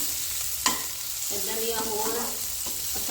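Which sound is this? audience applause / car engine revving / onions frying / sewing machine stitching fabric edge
onions frying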